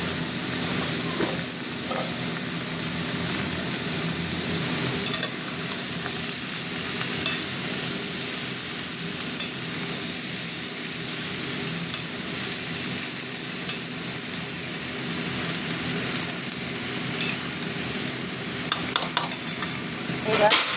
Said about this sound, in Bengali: ওইটা একটু নুন দিয়ে ওলট পালট করে দিলাম ঠিক আছে ওপর নিচ করে দিলাম